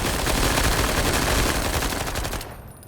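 SMG gunfire in the game Menace, a sustained, loud, close automatic burst lasting a couple of seconds before cutting off abruptly.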